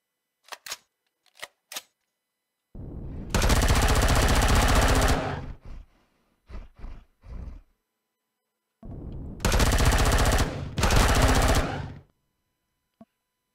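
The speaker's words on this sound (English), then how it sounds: "I'm getting XP for shooting them." Bursts of automatic gunfire from the video game Empyrion Galactic Survival: a few short clicks, then two long sustained volleys separated by a quick rattle of shorter bursts, loud and up close with no talking.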